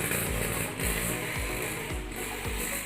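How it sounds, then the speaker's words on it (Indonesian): A grinding machine pulping red coffee cherries for honey-process coffee, giving a loud, steady mechanical churn with a regular ratcheting knock about twice a second. "Kalau proses honey, ceri merahnya digiling"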